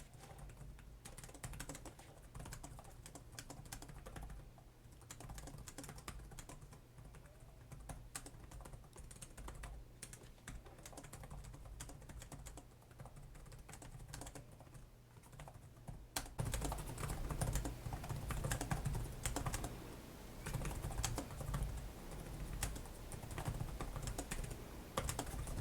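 Continuous typing on the low-profile keyboard of a Dell Inspiron 14 laptop, rapid quiet clicks in an uneven steady stream, close and soft, growing somewhat louder and busier in the last third.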